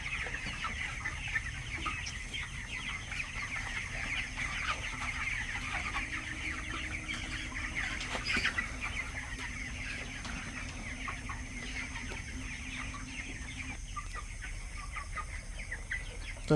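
Young broiler chickens, 24 days old, keep up a busy, constant clucking as they quickly finish their drinking water in a farm shed, many birds overlapping nearby at an even level throughout.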